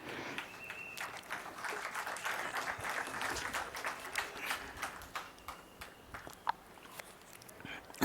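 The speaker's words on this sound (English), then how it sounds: "Sorry, I didn't wait for the applause" Audience applause following a keynote address, a fairly faint, steady patter of clapping hands in a hall that thins out toward the end.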